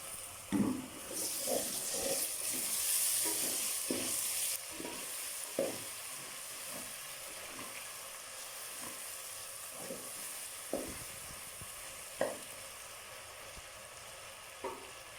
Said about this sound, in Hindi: और प्याज सुरख होने लग गया है, तो इसमें मैं टमाटर और सब्ज़ मिर्च ऐड कर दूँगी